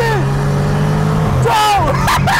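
An Audi RS7 engine revs and accelerates, its pitch climbing near the mic, while loud excited voices shout over it.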